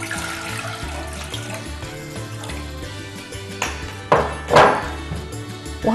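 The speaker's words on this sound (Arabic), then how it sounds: "هنحط 2 كوب مية" Water is poured out in two cupfuls for lentil soup in a kitchen, a running splash that swells twice near the end over low background sound, with no speech.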